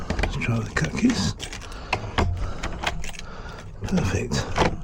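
Keys jangle and scrape as a locksmith works cut keys into a tricky lock stuck in the locked position, giving a dense run of close metallic clinks and rattles with no pause, and brief voices in the background.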